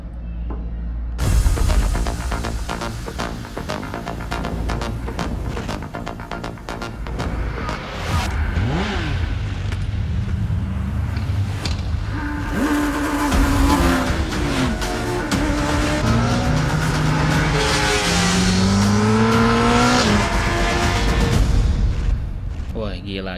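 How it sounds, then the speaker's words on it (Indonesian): A new 2026 Kawasaki ZX-10R superbike at race pace on the JRS circuit gives a loud, high-revving engine howl, rising and falling through the gears as it passes and accelerates. "di sirkuit JRS, pembalap WSPK-nya Kawasaki Racing Team yaitu Gareth Gerloff mengetes new ZX-10R 2026 Edition"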